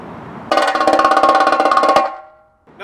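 Tenor drums rattle out a rapid, even stream of 16th-note triplets for about a second and a half, then cut off and ring away, with a faint hit starting again at the end.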